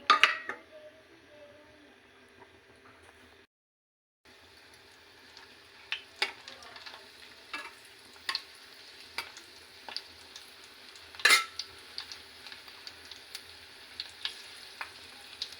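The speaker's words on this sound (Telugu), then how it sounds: "ఆయిల్ వేడెక్కాక నేను వెల్లిపాయ రెబ్బలు వేసుకున్నాను రెండు ఎండుమిర్చి" Garlic cloves and dried red chillies fry in hot oil in a pan, a soft steady sizzle broken by a short pause, then quiet crackling with scattered ticks and clinks from stirring.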